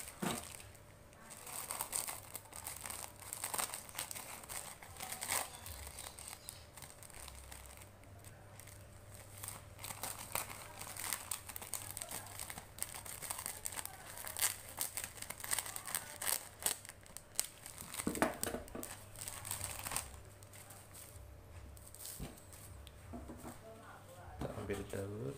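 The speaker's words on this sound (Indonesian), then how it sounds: "Kita potong plastik." Plastic wrap for tempeh packaging is cut and crinkled up close, giving irregular snips, rustles and crackles across the stretch, with some voices at times.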